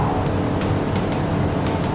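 An Audi A3 driven hard on a race track over the curbs, a loud, steady engine and road roar recorded close up with rough, fluttering texture and no pauses.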